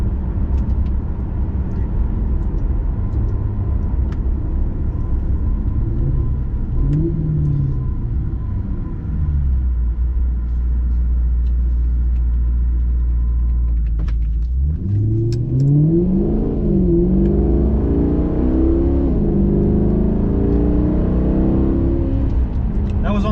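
Maserati engine heard from inside the car: a low steady rumble at idle, then a rising rev that climbs and swells loudly, with the engine note sweeping up and down as it accelerates.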